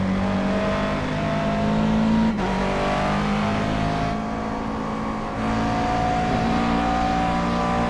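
Race car engines in iRacing at Road Atlanta, a loud, close, sustained engine roar that rises under acceleration, dips sharply at shifts and braking, then climbs again, with no talk.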